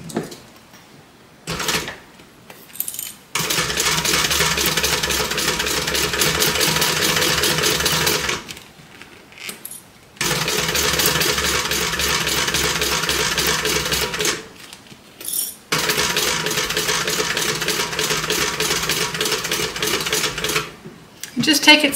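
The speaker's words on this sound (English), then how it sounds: "I'm going to baste this across, sew down, and then go ahead and baste the rest of this pocket together" A domestic sewing machine stitches fabric while basting a curved pocket for a doll outfit. Two long runs of steady mechanical whirring are separated by short pauses, and brief clicks and handling noises come between them.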